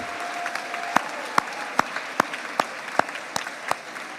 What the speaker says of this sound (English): Join me in another round of applause to honor those who helped you attain your goal of becoming a university graduate.